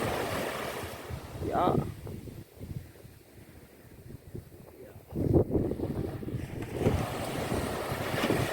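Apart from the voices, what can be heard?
ocean waves on a Jamaican beach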